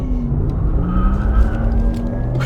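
Porsche Taycan Cross Turismo electric estate car sliding into oversteer, a loud continuous rumble of tires scrubbing across the surface with a rising motor whine running steadily throughout.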